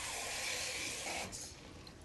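Tap water runs steadily into a pot holding 2 pounds of Yukon Gold potatoes with salt, a continuous close splashing fill that thins out and softens toward the end.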